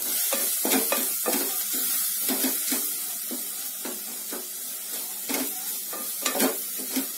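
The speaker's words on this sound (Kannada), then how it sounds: "ಧನಿಯಾ ಪುಡಿ, ಖಾರದ ಪುಡಿ, ಹಳದಿ, ಸ್ವಲ್ಪ ಎಣ್ಣೆನಲ್ಲಿ ಬಾಡಿಸ್ಕೊಳ್ಳಿ." Garam masala, coriander powder, chilli powder and turmeric frying in a little oil for chicken kurma gravy, a soft sizzle broken by repeated spoon taps and scrapes against the pan, close up.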